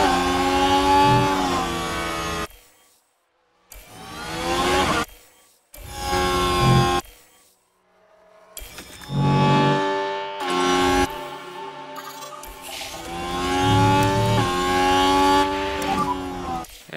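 Race cars in F1 Manager 2023 pull away at the start of a sprint race at the Qatar Grand Prix, engines whining and rising in pitch through gear changes in loud bursts separated by short gaps.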